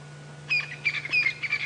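Game bird of a covey-living species calling on an African safari drive, a short series of chirping, repeated notes rising out of a quiet background with a low steady hum beneath.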